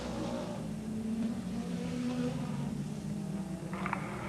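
Midget race cars in a 1981 heat race at Rockford Speedway, their engines a steady, fairly distant droning hum that rises and falls slightly as the cars circle the track.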